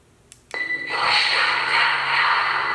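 A Proffie lightsaber (7 Chambers SK-IG build) running a Sith chant sound font ignites with a sharp burst, then settles into a loud, steady, humming drone with a faint layered tone, no talking.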